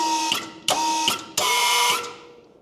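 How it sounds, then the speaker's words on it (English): The hydraulic pump on an Ag Multi Trailer deadheads with no outlet open, giving a steady mechanical whine that surges in three sharp bursts and then fades. "That is the pump basically forcing against nothing because nothing is open, it can't do anything."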